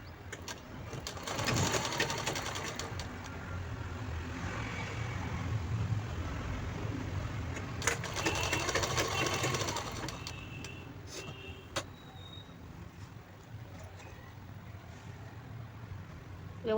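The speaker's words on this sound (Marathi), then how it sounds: "व्यवस्थित खालचा वरचा पार्ट व्यवस्थित करून शिलाई द्यायची" A sewing machine stitching a peplum top whirs steadily at close range, running in long stretches with brief slowdowns and small mechanical clicks between bursts.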